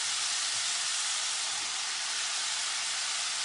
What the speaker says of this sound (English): now because they take a while to cook, sweet potatoes are hitting the pan right away now.